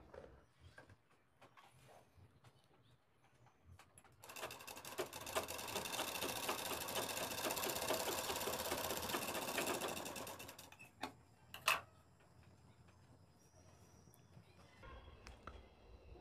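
A sewing machine stitching in one steady run of about six seconds, a fast rhythmic mechanical whir heard close up, then a few clicks and quiet handling afterward.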